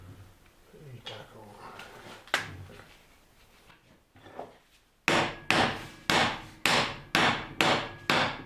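Hammer blows tapping a part of a hybrid propshaft, about 600 mm long, home: after a few scattered knocks, seven loud, sharp metallic strikes land in an even, steady rhythm, close by and alone.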